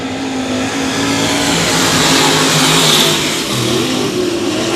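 Crate late model race cars accelerate around a speedway, a loud continuous engine roar that swells and fades slightly as the pack passes, with a crowd-like wash behind it.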